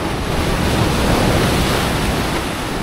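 Surf washes steadily onto the beach at Green Bowl, Uluwatu, Bali, a broad continuous roar of breaking waves with some wind rumble, close and loud throughout, with no voices.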